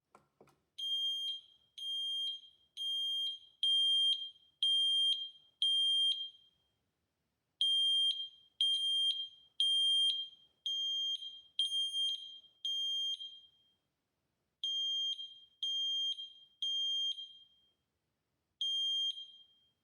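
Interlinked Matter smoke alarms in a house sound together in loud, piercing bursts of rapid beeps, repeating in regular groups with short pauses between them.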